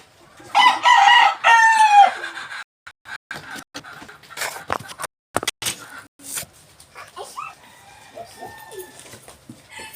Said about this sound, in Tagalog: Uy, chicken.